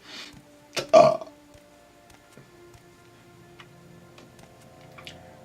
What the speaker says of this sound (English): Thumbs up for that daintiest burp ever.